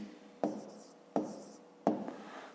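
Three separate strokes of handwriting with pen on paper while a number is written down during a maths exercise, each a soft close scratch starting sharply and trailing off, with quiet between them.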